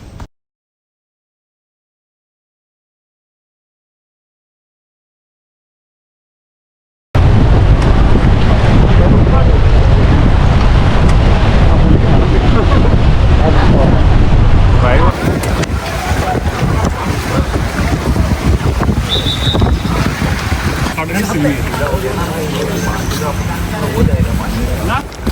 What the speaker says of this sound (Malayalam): ബോട്ട് സ്ലോ ചെയ്ത് തന്ന് സ്ലോ ആയിട്ടാണ് ബോട്ട് മുന്നോട്ട് പോകുന്നത്.